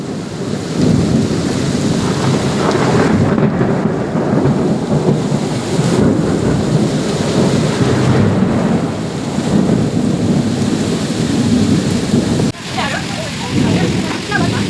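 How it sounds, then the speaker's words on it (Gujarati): Heavy rain pours steadily in a loud thunderstorm, a dense broadband roar with deep rumbles of thunder rolling through, continuous throughout with a brief dip near the end. "મિત્રો જોઈ શકો છો જોરદાર વરસાદની તબાહી ચાલુ છે વાવાઝોડા સાથે."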